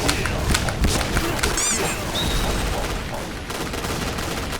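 Shotgun gunfire in the battle royale game PUBG, several rapid booming shots early on over a constant din of game noise and effects.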